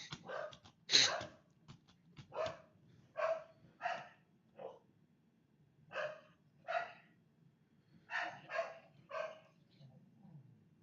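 Dogs bark about a dozen times in short, sharp bursts with irregular gaps, moderately faint over a low background rumble.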